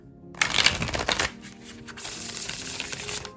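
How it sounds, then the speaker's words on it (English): Tarot cards are shuffled hand over hand, making a burst of dense, crisp flicking and slapping at first and then a softer, steady rustle close by, with no talking. "I would suggest a hand over hand shuffling with these and not so much a riffle shuffle"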